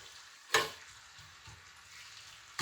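Yucca blossoms fry on the lowest setting in a freshly seasoned pan on a shed stove, a soft, steady sizzle broken by one sharp clatter near the start.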